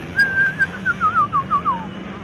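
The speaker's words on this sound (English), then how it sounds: "They're whistling at JP." Fans at a motocross race in Arizona give a sharp, loud whistle, one sustained note followed by a rapid series of falling, wavering whistled chirps.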